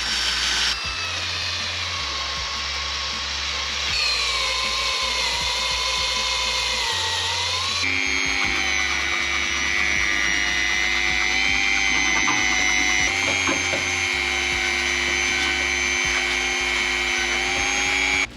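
A Dremel rotary tool fitted with a sponge bit scrubs rust off a car body in a garage, a steady high-pitched whine whose speed steps up and down through several sustained runs, up close and loud.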